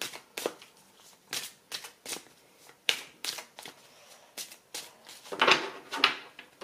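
Oracle cards being shuffled and drawn during a daily reading, with repeated papery riffling bursts and soft slaps in an uneven rhythm, close and moderately loud, and no voice.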